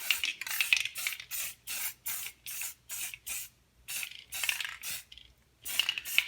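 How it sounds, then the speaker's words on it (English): An aerosol spray paint can hisses in about a dozen short, evenly spaced bursts while coating a Honda Civic wheel on a budget build, each spurt crisp and close with brief silent gaps between. "Give it a little, just a little spray."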